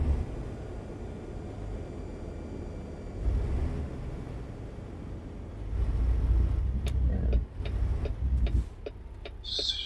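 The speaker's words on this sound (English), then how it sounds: "Let the retarder do a little bit of work." American Truck Simulator truck slowing on the road with its engine retarder braking, a steady low engine drone swelling louder midway, with faint ticking clicks near the end.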